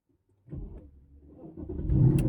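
Car engine cranking and catching after a short silence, then settling into a rough low idle that swells louder near the end.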